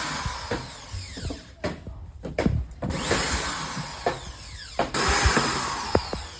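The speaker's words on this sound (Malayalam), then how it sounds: "ഡ്രില്ലിംഗ് മെഷീനും കാര്യങ്ങളൊക്കെ സെറ്റ് ചെയ്യുന്നുണ്ട്." A power drill loosens the screws on a filter box in short, whirring bursts with ratcheting clicks in between, fairly close and alone without talk.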